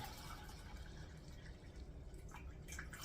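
Canning jars being filled with beans and liquid, a faint close trickling and dripping of liquid heard alone against quiet room noise.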